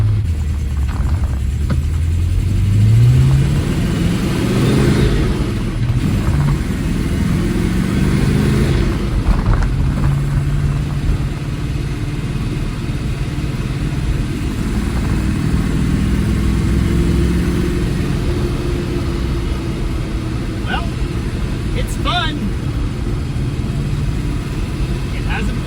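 A supercharged 1961 Studebaker Hawk, five and a half years off the road, pulls hard in third gear, its engine note climbing steadily then holding a loud, rough drone inside the cabin, with voices over it now and then.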